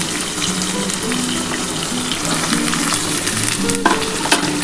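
Potatoes and cauliflower fry in a pan for a festive-style spiced curry, a steady close sizzle with stirring scrapes and a few sharper clatters near the end, no voices.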